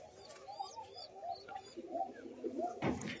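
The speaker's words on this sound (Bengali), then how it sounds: "এটা হচ্ছে পাতি গিরিবাজের বাচ্চা" A young Giribaz pigeon chick on an open rooftop gives soft, low coos and murmurs close by, faint and irregular, ending with a brief louder rustle or flutter.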